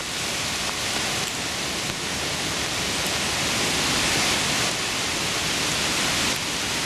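Heavy rain pours outside St Michael's Abbey in Farnborough on Christmas Eve, a dense, steady hiss of drops hitting surfaces that stays loud and even throughout.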